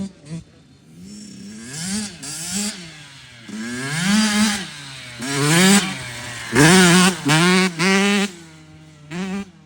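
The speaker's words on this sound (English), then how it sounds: "you can see I can ride a wheelie, okay, on a YZ85" A Yamaha YZ85 dirt bike revs up and down in repeated rising and falling bursts while riding a wheelie, a raspy two-stroke whine that surges loudly several times and then eases off.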